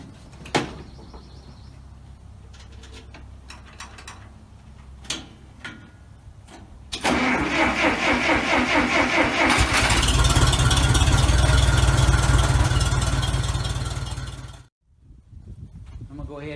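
A 1953 Chevrolet 1.5 ton truck cranks, catches and settles into a loud, rough idle after a few knocks and clunks, then cuts off abruptly and a brief mechanical clatter follows.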